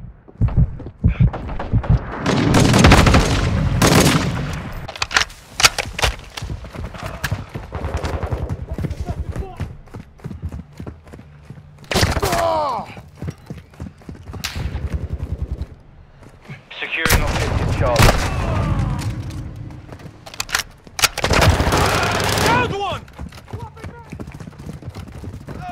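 Repeated gunfire and grenade blasts from a Call of Duty Modern Warfare 2 firefight, loud bursts of shots and explosions coming in waves across the whole stretch, with soldiers' voices shouting callouts between and over the fighting.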